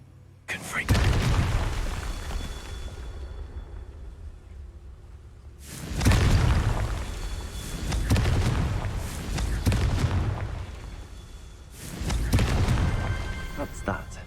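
Confringo blasting spells in Hogwarts Legacy, three heavy booming explosions spaced a few seconds apart, each with a rumbling tail and debris crackle, while a voice talks in between.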